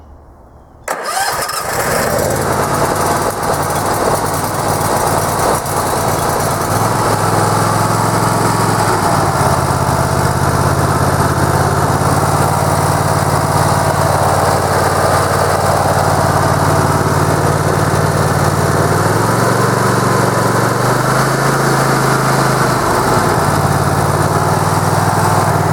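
Harbor Freight 22HP engine on a zero turn mower cranks and catches after a second of quiet, then runs loud and steady at close range with a few throttle changes in pitch and no talking.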